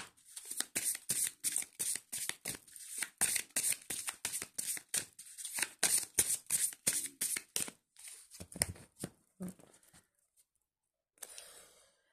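A deck of tarot cards being shuffled in rapid, close riffling bursts, then cut, ending with a few soft taps and a brief rustle after a pause.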